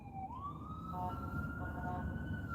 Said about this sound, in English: Looks like we got an ambulance coming through